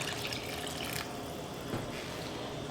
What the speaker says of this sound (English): And a little more water.